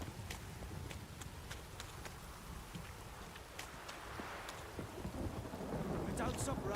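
Rain pours steadily in The Witcher video game, with low rumbling thunder rolling beneath the constant hiss of the downpour, the storm growing heavier and louder toward the end.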